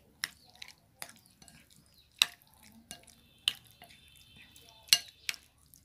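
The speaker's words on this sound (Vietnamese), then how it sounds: "Rồi bây giờ mình sẽ trộn nó lên nha." Vegan crab cake batter being mixed with softened mushrooms in a bowl: soft, wet sticky stirring with a series of sharp, close utensil taps and clinks spaced irregularly, fairly quiet between hits.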